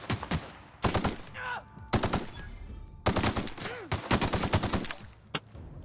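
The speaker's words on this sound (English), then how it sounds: "Shotgun." A shotgun fires in The Outer Worlds video game: several loud, close blasts in quick clusters, each with a sharp crack and short decay, and brief quiet gaps between bursts.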